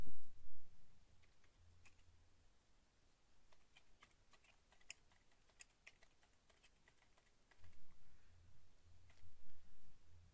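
Typing on a computer keyboard while entering club member details into a database, heard as irregular bursts of soft key clicks with a low background hum that swells at the start and end.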